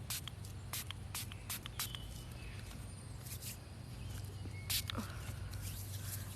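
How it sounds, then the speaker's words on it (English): Several quick spritzes from a spray bottle, short sharp hisses spaced irregularly over a low steady hum, close and fairly quiet. "I'm gonna give everybody a nice spritz."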